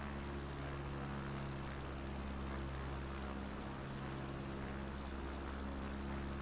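Propeller airplane engine in a flight simulator game on a bush trip through the Apennines, a steady loud droning hum with strong low harmonics running unbroken throughout.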